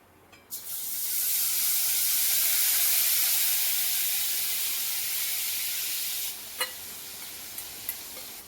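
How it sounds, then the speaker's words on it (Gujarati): Garlic chutney with asafoetida hits a hot pan and sizzles loudly at once, a broad steady hiss holding for several seconds before easing slightly, with a few small clinks near the end; no one talks. "હવે હિંગ નાખીને આ બધી ચટણી આપણે આની અંદર નાખી દઈશું"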